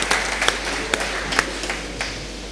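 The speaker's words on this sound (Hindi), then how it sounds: "एक बार तालियां बजाकर मुझे माहौल दीजिएगा।" Clapping from the audience at a kavi sammelan poetry gathering in Dilshad Garden, Delhi. A thin scattering of hands makes sharp irregular claps over a low hum, moderately quiet and lasting only a few seconds.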